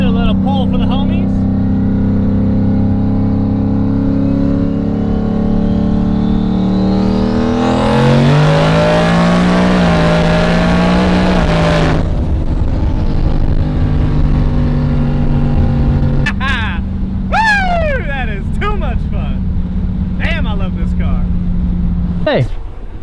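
Modded street car with a built engine pulling hard through a neighborhood, the engine note climbing steadily to a loud high-rpm scream, then a gear change and renewed revving, with people talking over it.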